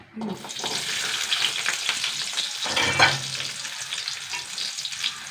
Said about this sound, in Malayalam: നാലഞ്ച് ചെറിയ ഉള്ളി ഉണ്ടോ ചെറുതായി വട്ടത്തെറിഞ്ഞത് ഇട്ട് കൊടുക്കട്ടെ കേട്ടോ